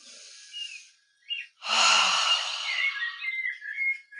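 A deliberate qigong breath exhaled through the mouth with a sound, a long breathy sighing exhale lasting a couple of seconds after shorter soft breaths, close and fairly quiet.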